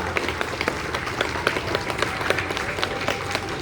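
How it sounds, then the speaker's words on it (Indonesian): An outdoor crowd at an elementary school's National Education Day ceremony applauds its teachers, a steady, fairly close patter of many hands clapping throughout with no talking over it. "Kita berikan apresiasi, tepuk tangan untuk Bapak Ibu guru kita"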